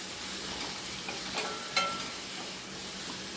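Potato pieces are stirred and fried in a pan over a medium-high flame: a soft, steady sizzle with a couple of brief scraping knocks from the stirring.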